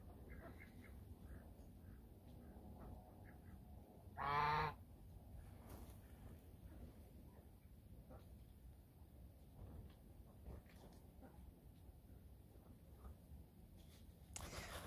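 A goose-like bird honks once in a compost-heated greenhouse, a short, moderately clear call standing out over a faint, quiet background.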